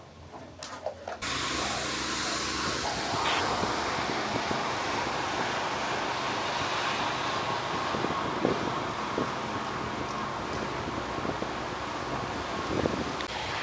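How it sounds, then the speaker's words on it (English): Steady roaring wind buffets the microphone outdoors, a continuous loud rumbling gust with occasional sharper bumps, no voices. "It's so windy."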